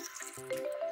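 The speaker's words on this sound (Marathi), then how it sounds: "आता पाणी ऍड करायचं" Water is poured into a glass holding ice cubes and mango panna concentrate, a brief faint trickle whose tone rises as the glass fills.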